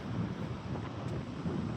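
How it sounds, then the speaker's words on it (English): Steady, broadband wind buffeting a microphone on a beach, rumbling without a break for the whole stretch at a fairly even loudness, with no voices on top. "It's quite windy."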